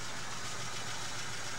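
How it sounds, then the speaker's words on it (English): A car engine cranks during a compression test, a continuous close, loud mechanical churning drone with no pauses across the short stretch. "Crank the engine,"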